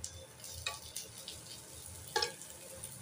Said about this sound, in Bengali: এই পেঁয়াজ আর রসুনটা ভাজা হয়ে গেছে, এবার এর মধ্যে পড়ছে